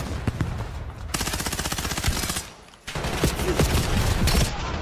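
Sustained automatic gunfire from the video game Black Ops 7 rattles loud and close in long, rapid bursts with a brief drop in the middle before firing resumes.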